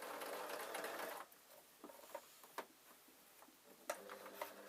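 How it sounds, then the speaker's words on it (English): A sewing machine stitching a baby's kilt runs in a fast, steady whir for about a second, then stops, followed by scattered soft clicks and taps of fabric handling, faint and close. "I know it seems like I'm at war with this sewing machine"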